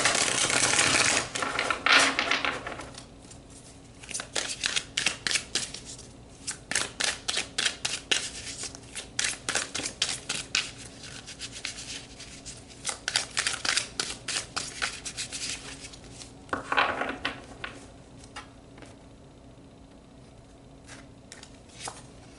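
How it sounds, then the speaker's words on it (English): Tarot cards are pulled and shuffled in rapid flurries of crisp riffling and slapping, with dense bursts separated by short pauses, close and fairly loud, with no talking. "let's pull some more cards"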